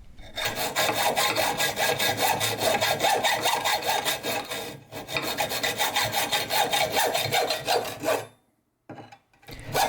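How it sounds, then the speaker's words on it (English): A hacksaw cuts through an aluminum plate by hand, loud steady rasping back-and-forth strokes for about eight seconds with a brief pause midway, then stopping. "then I can use both hands on the saw blade without it jumping out as easily from that notch that I started."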